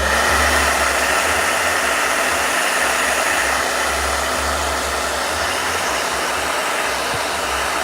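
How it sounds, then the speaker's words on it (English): A blow dryer runs steadily and loudly over a watercolor painting, a continuous even whoosh with a low hum underneath for several seconds, no talking. "I'm worried if I use a blow dryer, watercolor would splatter everywhere."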